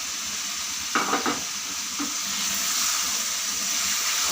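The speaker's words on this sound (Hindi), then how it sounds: "अब हमने इसमें ये फ्राई की हुई भिंडी ऐड कर देनी है।" Fried okra tipped into a pan of chicken curry and stirred, a couple of soft thumps and scrapes over a steady background sizzle that continues evenly afterward, with no talking.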